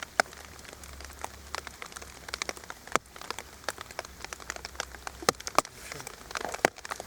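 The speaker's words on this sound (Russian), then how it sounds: "Но дождь конкретно не дает рыбачить." Rain falls during a fishing trip, producing a steady, faint patter of scattered drops with sharper taps and crackles striking a nearby surface, with no voices.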